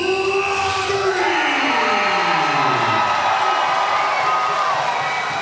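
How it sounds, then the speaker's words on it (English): A crowd roars and cheers at a hometown professional boxing night, a loud, sustained wall of voices with whoops rising over it and no clear break throughout. "listen to the roar of the crowd"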